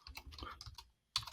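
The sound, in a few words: typing a subdomain on a computer keyboard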